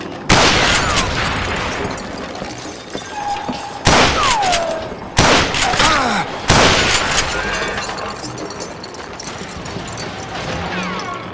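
Gunfire in a shootout from the video game Call of Juarez, with loud, repeated shots and bursts breaking through a noisy mix, several sharp booms and ricochet-like whines spread across the scene.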